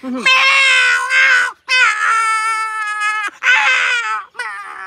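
A man imitates two cats fighting over a fish bone, making loud, close, wavering yowls and screeches in four bursts with brief gaps between them.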